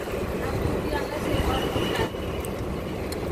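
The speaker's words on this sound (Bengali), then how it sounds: "আমাদের ট্রেন তারকেশ্বর ট্রেন ঢুকছে" Tarakeswar train pulling into a station, a broad rumbling roar that holds steady with a brief dip partway through, heard up close alongside crowd and ambient noise.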